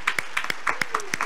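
A church congregation applauding during a sermon: a short burst of sparse, distinct hand claps, fairly close and at moderate loudness.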